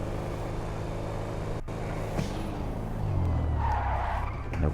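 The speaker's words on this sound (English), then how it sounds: "A little bit of handbrake action there." A car in GTA 5 skids under the handbrake, its tires squealing with a rising engine roar in a sustained slide, loud and continuous over a steady game engine drone.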